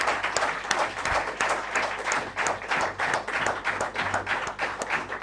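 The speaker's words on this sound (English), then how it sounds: "can I please request all of you to give a big round of applause to this" A small conference audience applauds a panel, with distinct, fairly close individual claps in an uneven rhythm and no talk over them.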